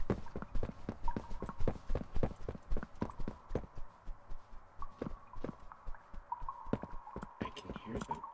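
Tiny footsteps patter steadily in Poppy Playtime Chapter 3, a rhythmic run of soft, close thuds continuing throughout at a quick, even pace, with faint tonal game sounds in the background.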